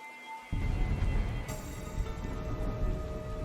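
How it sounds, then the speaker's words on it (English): Steady rain in a dark fantasy video game, a dense broadband hiss that swells loudly after a brief quieter start and holds continuously to the end. "The hills are alive with the sound of raining."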